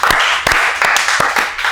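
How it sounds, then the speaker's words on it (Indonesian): An audience at a talk show claps together, a short burst of crowd applause marked by a few sharp, distinct claps, loud and close. "Tepuk tangan"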